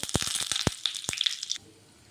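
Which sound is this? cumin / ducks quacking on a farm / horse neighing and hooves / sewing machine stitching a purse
cumin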